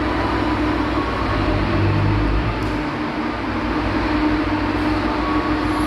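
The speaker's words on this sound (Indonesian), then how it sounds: "Nah, ini dia nih keretanya udah nyampe nih." An airport rail link train pulls into a station in Padang, Indonesia, its steady low rumble and rolling wheel noise filling the platform continuously and close by, with no voices.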